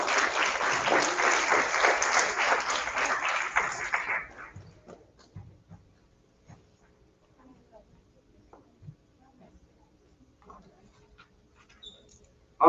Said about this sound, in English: A round of applause for Ms. Lamez and Ms. Medrano's class.